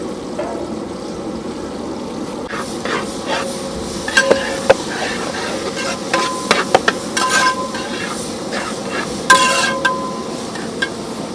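Whole onions and shallots for a large fish head curry tumble into a hot pan, a steady sizzle with scattered clinks and scrapes of stirring, no talk.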